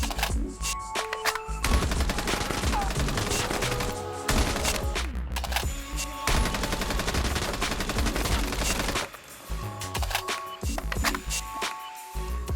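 Sustained automatic gunfire in Call of Duty Mobile, loud rapid bursts of shots running nearly continuously with brief pauses, no speech over it.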